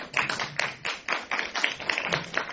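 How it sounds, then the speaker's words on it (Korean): An audience at a children's film festival Q&A screening claps for a director being introduced, a modest cluster of hands making uneven, rhythmic patters that rise and fall over a couple of seconds, close and fairly clear. "박수 부탁드립니다."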